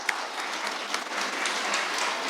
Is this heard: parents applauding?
yes